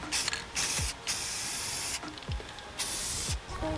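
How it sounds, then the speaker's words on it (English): Aerosol spray paint sprayed onto sticks set in the ground at a house site, coating them red: several short, close hissing bursts with brief pauses between. "So I'm just putting a few sticks in the ground, spray painting them red"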